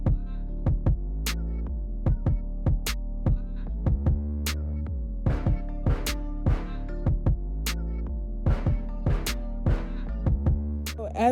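A home sewing machine stitches fabric for a two-piece outfit with a low, steady motor hum, broken by sharp clicks and ticks that repeat at roughly even intervals of about a second.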